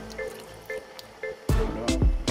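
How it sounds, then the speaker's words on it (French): Water from a glass splashes and gurgles into a pot of cooking red lentil dhal, a brief loud pour following a few faint drips. "j'envoie mon verre d'eau dans un premier temps"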